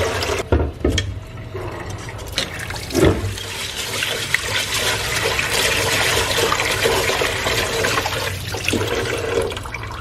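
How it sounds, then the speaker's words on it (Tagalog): Running water rinsing mung beans in a kitchen, a steady loud pour and splash with a few sharper clatters near the start. "Mga ilang hugas hanggang tanggal yung mga lumulutang"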